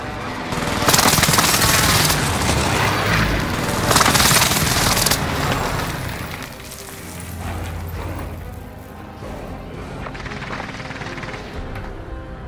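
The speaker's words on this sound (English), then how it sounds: "Allied precision airstrike incoming." Precision airstrike explosions in Warzone, a dense sustained roar of blasts and rumbling booms that is loud for the first few seconds and then settles into a lower, continuous din.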